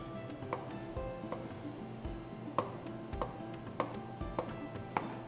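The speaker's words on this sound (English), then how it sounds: "And then it's just dicing it." A knife dices dragon fruit on a cutting board with a series of crisp, irregular taps and chops, close and fairly quiet, with no talking.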